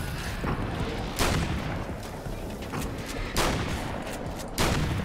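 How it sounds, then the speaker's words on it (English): Enemy darkness bombs going off in Alan Wake's American Nightmare: a series of booming blasts about every second under a constant dense rumble of game noise, each burst loud and broadband, with no talk over it. "He's shooting darkness bombs."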